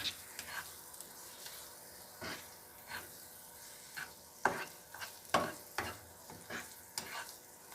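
Eggplant bharta with yogurt and red chilli being stirred and mixed in a pan: quiet, irregular spoon scrapes and soft sizzling hiss in uneven bursts, close by, with no talking.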